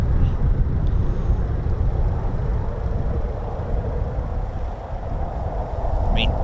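A US Air Force C-130J turboprop transport passes overhead at RAF Mildenhall, a loud, steady broadband roar with low rumble filling the whole stretch, wind buffeting the microphone and a brief faint chirp near the end.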